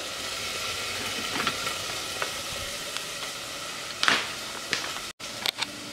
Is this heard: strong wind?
no